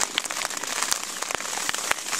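Steady rain patters over a taiga campsite in April, a dense close-up hiss of drops with frequent sharp individual taps, continuous and alone with no voices.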